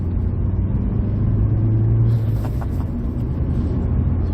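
A 1993 Rover 420 GSi saloon pulls out of a bend in second gear. The engine note is loud and close, with a strong low rumble that rises steadily as the car accelerates.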